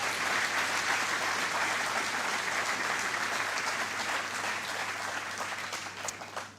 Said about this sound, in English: Let's give Orlando a round of applause.